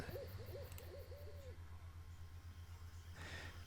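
Night ambience from the video game Everlasting Summer: a few soft, hooting night-bird calls in quick succession over a steady low hum, with a faint high chirring like distant crickets underneath.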